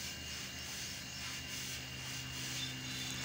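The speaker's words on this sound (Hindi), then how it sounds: "इधर को लंबा हाथ करके ऐसे ब्रश मारते हैं ऐसे" A brush scrubs a wet prayer mat during washing, giving a soft, steady rubbing hiss that continues without a break at low volume.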